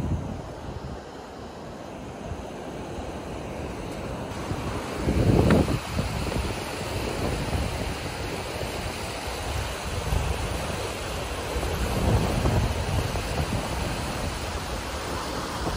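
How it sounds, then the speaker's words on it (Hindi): Water rushing forcefully near a temple footbridge along the route to Malshej Ghat, a loud continuous roar with surging swells, close and steady, with no voices over it. "पानी कितना जोर से आ रहा है"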